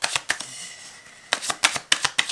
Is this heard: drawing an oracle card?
yes